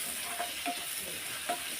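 Bottle gourd chutney fries in an uncovered pan, giving a steady, even sizzle with a few soft stirring scrapes and pops. It is faint and close, with no talk.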